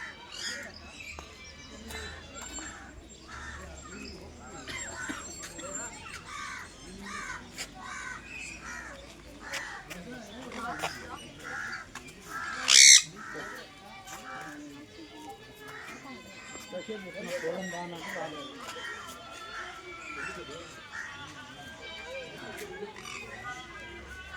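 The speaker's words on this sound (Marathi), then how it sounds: "ह्या पक्षाचं नाव आहे सन कोनूर" A sun conure at a zoological park in Tirupati gives harsh, repeated screeching calls, with one sharp, loud shriek midway, over people talking nearby.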